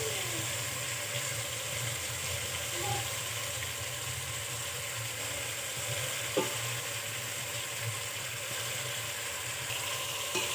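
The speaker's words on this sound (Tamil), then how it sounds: "பாருங்கள், காயெல்லாம் நல்லா வதக்கியாச்சு." Chunks of yam, potato and plantain sauté in hot oil in a pan for a fish curry, giving a steady, even sizzle with a few faint clicks and scrapes of stirring throughout.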